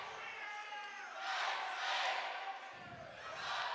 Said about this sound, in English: The crowd starting the "We Are" chant, trying to get some more energy in the building and support their home team.